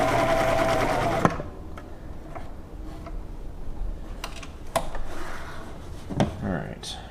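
A Viking 6360 sewing machine runs a zigzag stitch in a steady, close mechanical rattle that stops after about a second. Scattered ticks and clicks follow in a quiet room.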